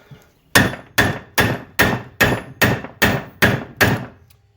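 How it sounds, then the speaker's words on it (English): Nine sharp metallic hammer blows on a mobile home's wheel stud land in a steady, even rhythm, close and loud, each ringing briefly before the next strike. "I'm going to switch to a smaller hammer to get a little bit more"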